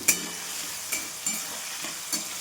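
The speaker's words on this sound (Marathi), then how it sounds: "हिरवी मिरची टाकून घेते आणि छान आता आपल्याला एकदा परतून घ्यायचं आहे." Green chillies and potato are sautéed in a pan for sabudana khichdi, with a soft, steady frying hiss punctuated by a few sharp scrapes and taps of a spatula, close and without talk.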